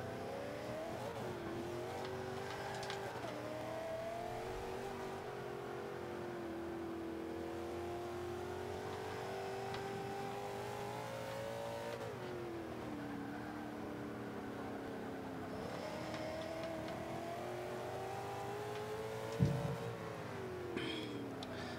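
A race car engine in Forza 5 drones and revs through shifting gears with traction control on, a sustained near whine rising and falling over the whole stretch, with a brief bump near the end.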